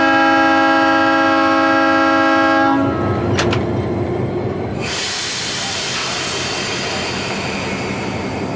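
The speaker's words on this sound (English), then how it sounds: "the train's eastward move begins" A loud diesel horn blares on a Fillmore & Western diesel locomotive, then cuts off as the engine rumbles and wheels begin grinding and squealing, the train pulling away steadily eastward.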